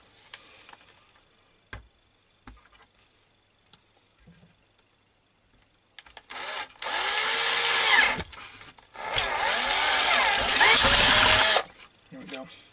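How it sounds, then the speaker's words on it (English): A small power drill whirs in two sustained bursts, drilling a hole in a 1/400 scale Titanic wreck model, after a few quiet seconds of light handling, loud and close. "So now I've got to drill an hole where this other chimney was."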